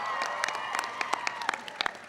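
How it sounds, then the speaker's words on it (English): An audience applauds for John at an astronomy night at the White House, with steady clapping from a moderately distant crowd. "So give John a big round of applause."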